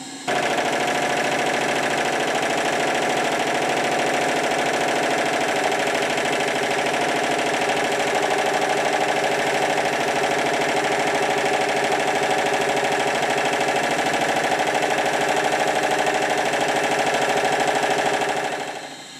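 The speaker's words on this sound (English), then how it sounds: "the engine's been running for quite a while" A model Stuart triple steam engine on a test run chugs continuously at a steady pace, a dense mechanical chugging and hum that holds unchanged for nearly twenty seconds, close and loud.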